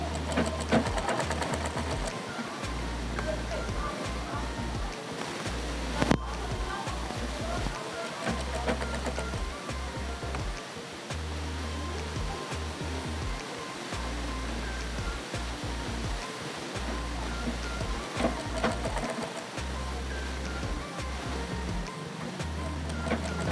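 An electric sewing machine hums and whirs continuously while stitching a Sabyasachi-style blouse along tacked marks, with a steady low motor drone throughout.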